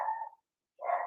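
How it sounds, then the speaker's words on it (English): A dog gives two short barks indoors, separated by a brief silence, moderately faint and with no talking. "everybody can just relax and cue the dog barking"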